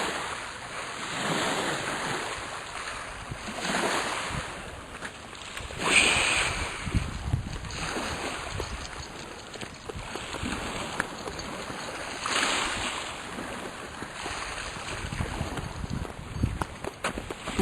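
Surf rolls onto a rocky beach below a big seawall, with broad washes of waves rising and falling under steady wind buffeting the microphone.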